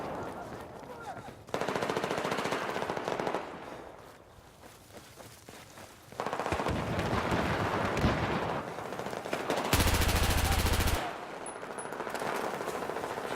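Rapid bursts of automatic gunfire from the video game Battlefield 4 on hardcore mode, loud and repeated in several sustained volleys separated by brief lulls, with footstep-like clatter between them.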